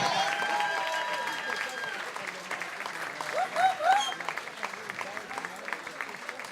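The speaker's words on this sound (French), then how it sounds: "Elle applaudit" Audience applause at an honours ceremony for a certificate of excellence, steady crowd clapping throughout with a few brief voiced exclamations rising near the middle.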